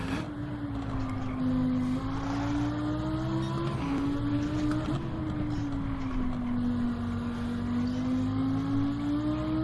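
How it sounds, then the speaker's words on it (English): Race car engine in the Gran Turismo 7 video game, a steady loud drone whose pitch rises and dips with gear changes and throttle, continuous throughout with no talk over it. "the less tire screeching you hear, the faster you're going"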